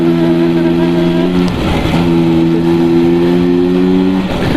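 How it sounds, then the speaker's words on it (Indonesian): A Vespa scooter engine fitted with a 6/7 clutch revs hard, holding a loud, buzzing high pitch that briefly drops and then climbs back, close up with no talking. "cepet naik RPM-nya kayak gini nih"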